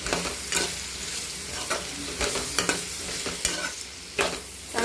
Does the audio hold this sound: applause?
no